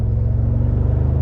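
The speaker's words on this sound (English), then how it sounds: "I love the sound in this," The 2021 Mercedes-AMG G63 engine, with its quad exhaust, gives a loud, deep, steady rumble close by, with no voices over it.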